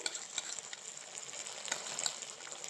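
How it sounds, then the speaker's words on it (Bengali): Chili chicken with a soy sauce and cornflour mixture is stirred in a pan, giving a soft, continuous sizzle with faint scraping strokes, quiet and brief, with no voices. "এবার একটু ভালো করে নাড়িয়ে নেব"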